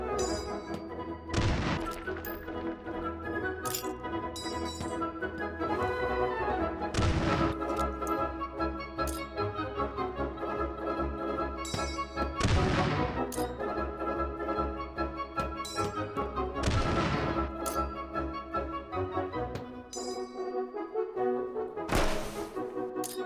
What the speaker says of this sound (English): the best way to play the varlet is with two cut-down recoilless rifles